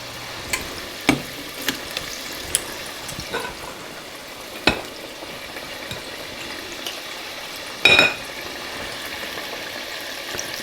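Hushpuppies fry in a pot of hot grease, giving a steady bubbling sizzle close by, broken by scattered sharp pops and one louder crackling burst.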